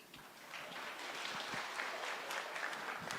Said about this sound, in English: Another hearty clap for Tony.